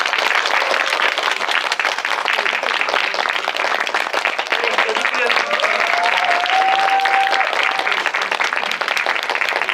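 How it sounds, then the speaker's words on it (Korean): Big cinema audience applause at a post-screening talk for the film Hijack 1971 at Lotte Cinema World Tower, dense and continuous, with a host's voice speaking over it. "큰 박수 부탁드립니다"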